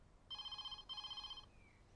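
A telephone rings in two electronic bursts of warbling tones, loud and close, then stops with a faint falling tail.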